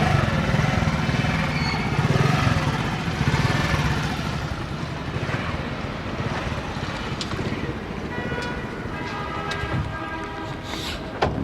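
A 1987 Nissan Sunny with a 16-valve engine idling on CNG, a steady, fairly quiet rough running hum with faint clicks near the end, no talking.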